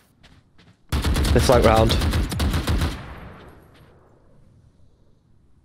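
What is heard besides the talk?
gunfire in the video game Valorant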